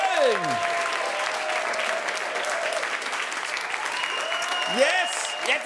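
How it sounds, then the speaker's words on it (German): Comedy club audience in Cologne applauding at a stand-up show, sustained dense clapping with a crowd murmur and a performer's voice gliding over it. "Applaus in Köln."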